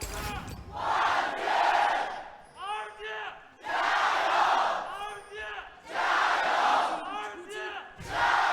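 Esports arena crowd at an LPL League of Legends match between Snake Esports and Royal Never Give Up in Chongqing, roaring and chanting in loud repeated surges separated by brief lulls, with rhythmic clapping or thundersticks.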